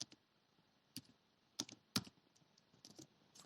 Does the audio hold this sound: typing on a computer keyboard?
yes